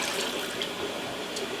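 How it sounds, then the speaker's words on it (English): Aquarium sponge filter rinsed and squeezed in a container of dirty tank water, a steady close splashing and sloshing that runs throughout with no talk. "get it all as clean as you possibly can in this dirty water."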